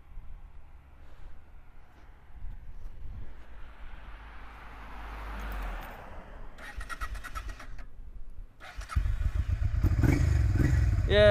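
Quiet rustling and clatter give way to a Honda NTV 650 motorcycle engine catching and running after a crash, a loud low rumble for the final seconds.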